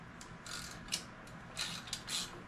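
A ratchet wrench turning a deep 11 mm socket on a car part: a few short bursts of quick clicking, close and fairly quiet, with pauses between strokes.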